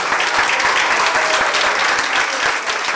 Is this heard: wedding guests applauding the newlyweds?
yes